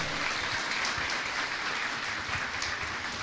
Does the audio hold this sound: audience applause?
yes